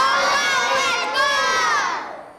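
A children's sports team, the Avalanche, shouts a loud unified team cheer together, a sustained crowd of young voices yelling for about two seconds before trailing off.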